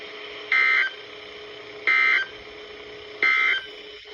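Three identical Emergency Alert System test tones from a weekly broadcast test, loud electronic beeps about a third of a second each, evenly spaced roughly 1.3 seconds apart over a low steady hum.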